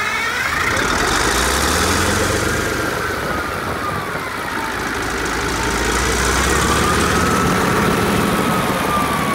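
Small engines idle steadily after refuelling, a close, continuous running drone with a slight swell partway through and no talking.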